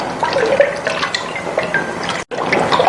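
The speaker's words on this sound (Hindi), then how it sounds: "3 से 4 गिलास पानी शामिल कर दें।" Water is poured into a cooking pot of kadhi pakora, a close, splashy trickle that fills and gurgles steadily with one brief break near the end.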